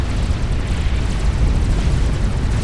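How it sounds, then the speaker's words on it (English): Nuke detonation in the real-time strategy game Forged Alliance Forever: a sustained, loud, low-pitched roaring rumble lasting a few seconds with no speech over it. "The nuke explodes"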